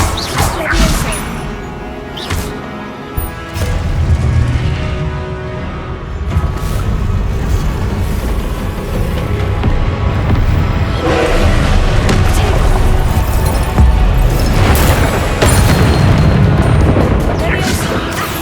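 Spells in the Hogwarts Legacy video game go off as repeated booming blasts and crashes, loud and dense throughout, while a voice keeps calling out spell incantations over the effects.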